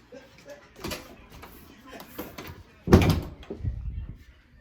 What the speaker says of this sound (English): I'm trying to close my doors and everything.